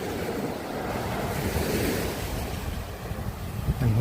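Ocean surf breaks on a beach at Ko Samet on the Gulf of Thailand, a continuous loud wash of waves mixed with wind buffeting the microphone and no talking.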